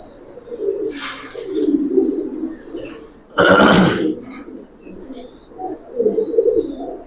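Old-breed pet pigeons, including a hammer-style pair, give low, throaty repeated coos close by, with a short burst of flapping or rustling partway through and more cooing after it.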